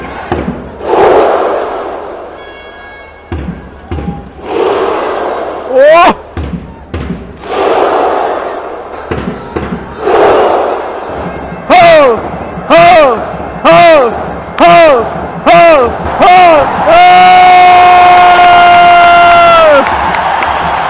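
A huge stadium crowd at a Kerala Blasters vs Mumbai City FC football match roars, then builds into a viking clap: loud, evenly spaced claps with a unison shout, ending as a sustained horn blares over the cheering.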